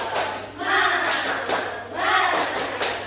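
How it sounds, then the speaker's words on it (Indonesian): A class does a rhythmic spirit clap, with a few distinct hand claps sounding beneath loud group chanting voices in a lively classroom. "Kita akan tepuk semangat agar pagi hari ini kita tambah semangat lagi."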